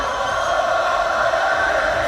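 A packed boxing arena crowd roars throughout a heavyweight fight, a dense, steady wall of cheering and shouting with no breaks.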